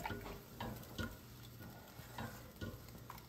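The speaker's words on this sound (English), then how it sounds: "We'll give this a little stir." Quiet, rhythmic spoon strokes stir minestrone soup in a pot, with soft scraping and sloshing about twice a second and a faint simmering sizzle beneath, with no talking.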